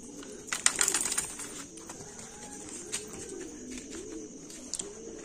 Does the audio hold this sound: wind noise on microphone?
no